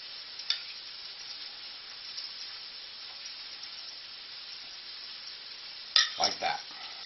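Cajun catfish frying in a pan gives a steady, fairly quiet sizzle throughout, with a brief louder crackle and clatter near the end.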